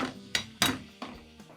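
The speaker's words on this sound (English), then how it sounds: "I'm just going to go ahead and top it with a little bit of ice." Ice cubes drop into a gin and tonic glass, making four sharp, close clinks spaced unevenly over a second and a half, each ringing briefly and fading, with no talking.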